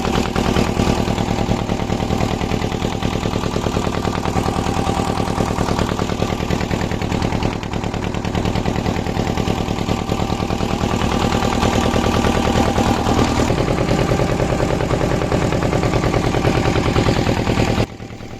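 A motor boat engine drones loud and steady while the boat crosses a river, a constant close mechanical throb that cuts off abruptly near the end.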